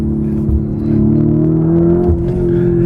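A Lamborghini Urus Performante engine pulling hard under acceleration, a loud, steady droning roar with rising tone, heard from inside the car with no talking.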